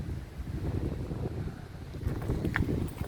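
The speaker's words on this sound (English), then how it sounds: "But it is very windy in gusts." Gusty outdoor wind on a cloudy day near a car park, buffeting the microphone with a continuous low rumble that swells in strength, with no talk.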